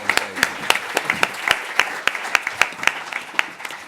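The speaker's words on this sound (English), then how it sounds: "Big round of applause." Applause from an evening panel audience at an entrepreneurs' event, moderately loud with distinct individual claps ringing out irregularly through the steady patter.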